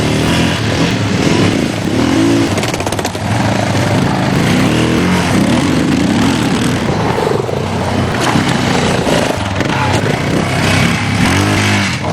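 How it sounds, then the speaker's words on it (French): Motorcycle engine running loud and close, a dense steady roar that holds for about twelve seconds with slight swells in pitch and no clear speech. "Allez, on descend la moto"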